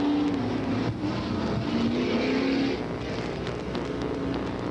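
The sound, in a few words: late model super stock race cars racing on track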